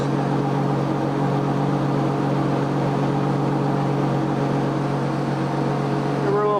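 A 2002 Volvo Penta 4.3L V6 Vortec inboard/outboard boat engine idling steadily at a constant, close hum with a slight rise in revs right at the end.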